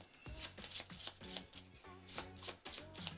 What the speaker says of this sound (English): I want to make sure this is nice and shuffled.